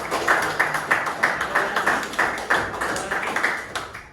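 Children clap their hands in a classroom, a steady run of quick, sharp claps that carries on evenly throughout at moderate volume.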